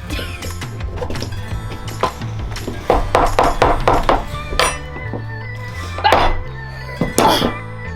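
A knife striking a hard mangosteen fruit: a series of dull knocks and clinks at irregular intervals, close by, over steady low background music and a faint hum.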